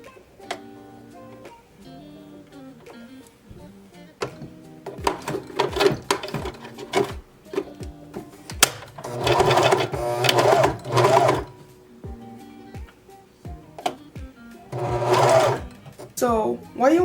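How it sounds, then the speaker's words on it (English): Serger sewing machine stitching dress pieces, whirring in bursts that stop and start, loud and close, with stretches of rapid mechanical running separated by pauses and a person speaking. "use my serger to serge all the pieces"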